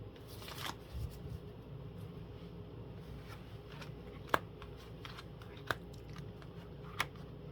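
Tarot cards being shuffled and handled, very quiet riffling and rustling with a few faint, sharp snaps as cards are laid down.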